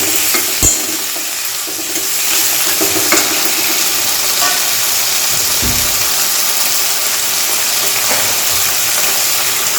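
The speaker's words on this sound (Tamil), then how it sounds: "நல்லா வதங்கிடும்" Tomatoes sautéing in a pan for tomato soup, a loud continuous sizzle with occasional spatula clacks and scraping as they are stirred, close by and without talking.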